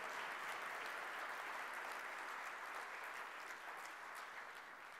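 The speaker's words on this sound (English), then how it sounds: "Can we have a big round of applause for inspiration?" Steady applause from a crowd, a dense wash of clapping that holds evenly for several seconds and fades slightly at the end.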